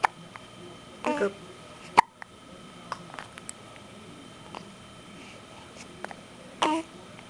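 A small child hiccups a few times in a quiet indoor space, with short, sharp hiccups at irregular intervals. Some soft speech and babble come in between them.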